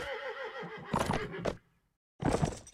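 A horse in a competitive multiplayer video game match gives a loud, close whinny, followed by sharp bursts of hoof clatter, then a brief silence and another burst of noise.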